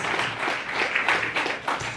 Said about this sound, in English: please do give yourself a round of applause for coming tonight